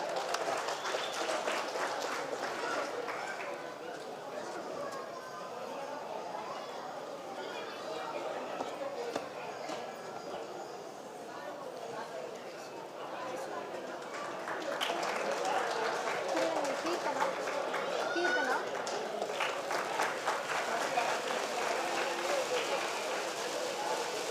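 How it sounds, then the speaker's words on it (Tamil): An audience at a Women's Day award ceremony applauds in a dense, sustained wave of clapping that swells louder partway through, with chatter and a voice over it. "ஒரு பெரிய கைத்தட்டல் கொடுத்துடலாம்."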